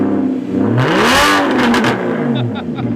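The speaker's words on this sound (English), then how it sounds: "Got a Huracan owner revving up the Porsche." A Porsche engine revs hard in a single rising and falling burst, loud and close among a crowd at a car gathering, with a few faint clicks trailing after.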